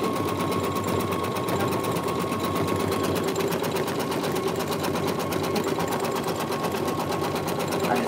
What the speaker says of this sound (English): It's just stitching right there.